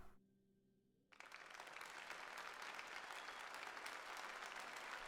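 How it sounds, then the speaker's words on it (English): In Xenoblade Chronicles 2, a small in-game audience breaks into applause after a second of quiet tones. The clapping is dense and sustained and keeps going to the end without letting up. "That's a lot of applause for barely any people in the audience"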